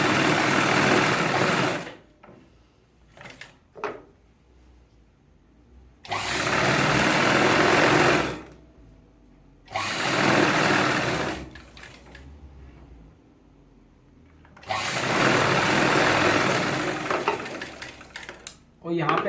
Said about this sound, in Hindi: ऐसे पकड़ने के बाद आप इसको सिलाई लगा लें एक एक पैर की।